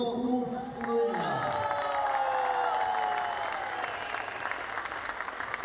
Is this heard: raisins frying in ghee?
no